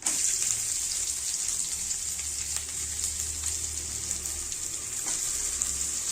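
Onions, garlic and curry leaves frying in hot oil in a pan, a loud, continuous close-up sizzle with a dense hiss and low rumble throughout, no voices.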